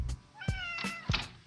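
A cat meows several times in quick succession, fairly close and soft, with short bright tonal cries and small thumps in between, alone with no talk.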